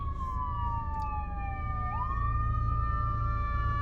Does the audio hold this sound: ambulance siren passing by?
yes